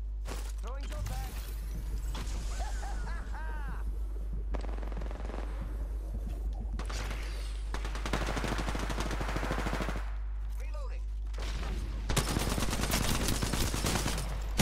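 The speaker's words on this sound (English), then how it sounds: "The enemies are shooting at me." Bursts of automatic gunfire and single shots from an Apex Legends match, loud and close, arriving in several dense volleys with short gaps and game sound effects in between.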